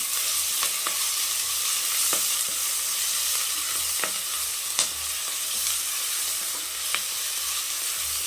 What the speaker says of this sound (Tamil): நல்லா இஞ்சி பூண்டெல்லாம் வதங்கிடுச்சு.